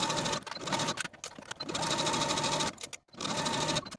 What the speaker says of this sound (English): Now sew the rise of your shorts with a 1/2 inch seam allowance from the front all the way to the back of your shorts